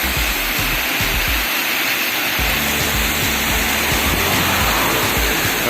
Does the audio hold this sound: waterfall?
yes